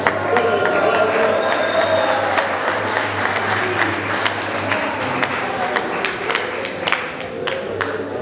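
Applause and cheering from a crowd at a graduation ceremony for a motorcycle and vehicle mechanics class, sustained clapping with scattered sharp individual claps and some voices underneath.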